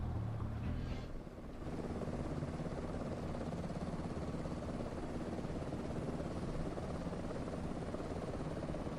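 Robinson R66 helicopter in Microsoft Flight Simulator at Bryce Canyon, a steady dense turbine and rotor drone filling the whole stretch, loud and continuous after a brief dip near the start, with no talk.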